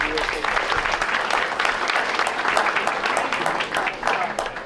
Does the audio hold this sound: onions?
no